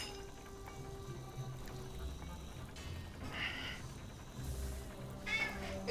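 An indoor cat meows a few times, moderately close, over constant background noise with some bumps and movement.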